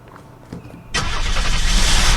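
A car engine starting in the video game Unturned: a few soft clicks, then the engine catches abruptly and settles into a loud, steady running roar.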